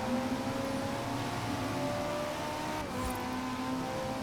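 A Ferrari fitted with a Lamborghini engine accelerates hard from a launch. The engine note rises steadily, then dips briefly at a quick gear change and climbs again, loud and close throughout.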